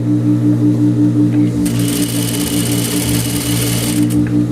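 Sewing machine running steadily as it stitches a blouse near interfacing at a corner, a continuous close whirring hum with a brighter rattling burst through the middle, no talk.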